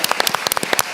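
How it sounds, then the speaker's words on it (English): Audience applause at a summit panel discussion: dense, steady clapping from many hands, close and loud, filling the whole moment without any voices. "Can we give a round of applause for that?"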